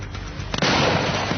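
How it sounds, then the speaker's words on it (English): A champagne bottle of thick toughened glass bursts inside a microwave. A sudden loud bang is followed by a second of harsh, roaring noise as the oven is torn apart. "The bottle is made of thick, toughened glass, so when the explosion does happen, it's enough to rip the microwave apart."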